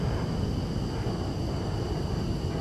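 F-15 fighter jet engine in Microsoft Flight Simulator during a foggy approach, a steady broadband roar with a low rumble and faint whine, constant and fairly loud throughout.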